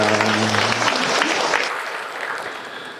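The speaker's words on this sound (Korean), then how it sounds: "환영의 박수, 사랑의 박수 하겠습니다." Loud welcoming applause from a church congregation, steady and full, with a brief hum of voices at the start before the clapping thins slightly toward the end.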